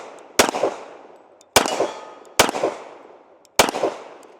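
Four sharp gunshots from a Kimber Custom Two Toned Next Gen 1911 pistol fired outdoors at an uneven pace, each loud crack followed by a fading echo.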